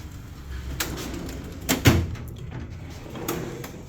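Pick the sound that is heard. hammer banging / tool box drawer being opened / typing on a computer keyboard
tool box drawer being opened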